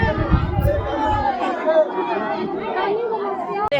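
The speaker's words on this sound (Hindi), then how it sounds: "बहुत भीड़ है यहाँ पे।" A busy crowd at the Gauri Shankar hill temple in Madanpur makes dense, close chatter, with overlapping voices forming a continuous babble and a few sharp knocks at the start.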